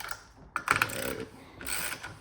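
A ratchet wrench tightens a bolt on a homemade motor mount, giving a few quick clicking bursts and a short metallic clank, close by and fairly quiet.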